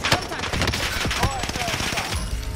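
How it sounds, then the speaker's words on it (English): Rapid automatic gunfire bursts in the video game Call of Duty: Modern Warfare, loud and dense bursts repeating over a couple of seconds, with players talking over the shooting. "He's shooting at you from the top."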